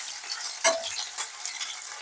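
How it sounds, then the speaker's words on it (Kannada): Chopped onions frying in a pan give a soft, steady sizzle close by, with a couple of brief scraping stirs. "ಇದನ್ನ ಸ್ವಲ್ಪ ಹಾಗೆ ಬಡಸ್ತಾ ಚೆನ್ನಾಗಿ ಫ್ರೈ ಮಾಡಿ."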